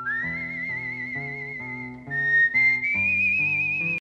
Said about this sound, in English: The opening of the film credits the person doing the intro whistling